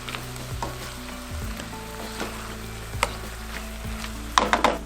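Mirliton with green onion tops, Creole seasoning, salt and pepper sizzles softly in a pan, a low steady frying hiss broken by a few light scrapes and a quick burst of clattering at the end.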